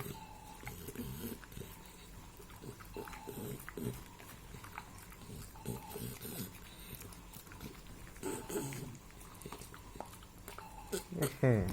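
An American Bully dog chews and crunches a hard dental chew treat up close, with irregular crisp bites and snuffling while a person talks quietly over it.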